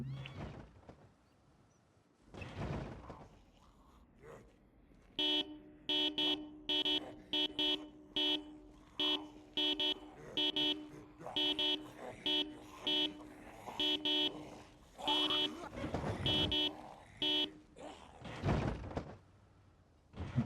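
A car horn sounds in the zombie survival video game Project Zomboid, a long series of loud, evenly repeated electronic honks with a few faint thuds and footsteps before and after.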